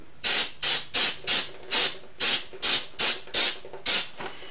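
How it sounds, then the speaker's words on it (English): Carb cleaner sprays in about a dozen short, loud bursts at an even rhythm, close up, washing grit off a fixture plate on a Bridgeport mill. "I even have some carb cleaner handy here just to wash the grit off real quick."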